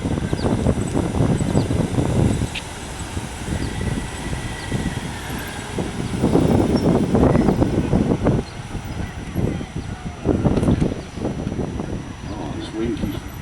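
Gusty wind buffets the microphone outdoors at a drill team horse riding event, loud low rumbling surges rising and falling throughout, with someone talking over it.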